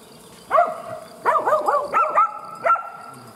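Several herding dogs bark in short, separate bursts, fairly close, beside a herd of goats and sheep in a village setting, with no other animal sounds or voices standing out.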